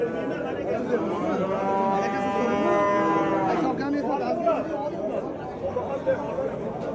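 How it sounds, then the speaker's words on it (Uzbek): A calf at a busy livestock market gives a drawn-out moo in the middle of the clip, rising over a steady hum of nearby men chatting and haggling. "Buzoq ekan, buzoq."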